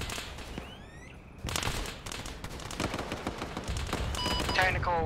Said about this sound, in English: We have taken fire.